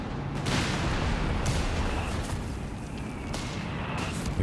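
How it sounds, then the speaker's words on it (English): Mortar half-track in the strategy game Company of Heroes 3 fires amid a busy battle, with repeated booming shell blasts and explosions over a dense rumble of gunfire. "the mortar half-track's hitting back"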